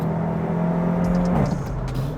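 A SEAT Leon Cupra Stage 2 engine pulls hard inside the car, a rising steady drone that climbs then shifts pitch around a gear change, loud and close with no talking.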